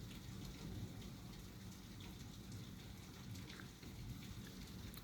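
Heavy storm rain pours steadily over a flooded alley on April 30, a dense continuous hiss of drops splashing on water and hard surfaces, with faint low rumbles underneath and no voices.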